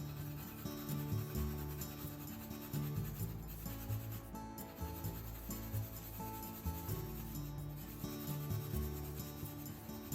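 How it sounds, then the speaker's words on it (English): Fresh ginger rubbed against a grater, a steady scraping rasp repeated in even strokes, close and alone with no talk. "Let's grate the ginger."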